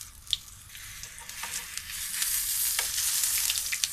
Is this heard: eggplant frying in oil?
yes